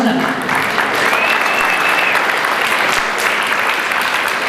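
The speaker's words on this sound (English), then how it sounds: "And a special round of applause and thank yous for naturopathic specialists." Steady audience applause fills the room at a health talk on GMO foods in Arizona, dense clapping holding at an even, fairly loud level for several seconds.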